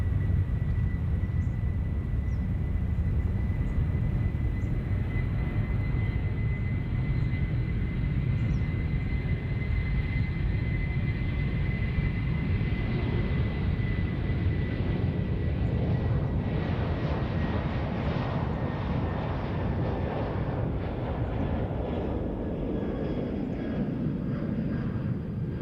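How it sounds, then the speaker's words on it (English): Airbus A330 taking off from runway 34 right at Sydney Airport, a steady, loud jet roar with deep rumble and a high engine whine, sustained throughout and slowly shifting as the aircraft climbs away. "A330 off 34 right."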